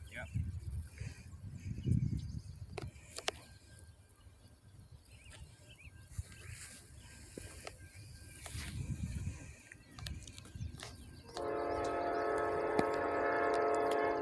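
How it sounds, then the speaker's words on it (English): At a railroad crossing on Gorman Road, a train passes with faint rumbling and clatter, then a horn blares steadily near the end; people talk quietly over it. "The horn sounds funny, doesn't it?"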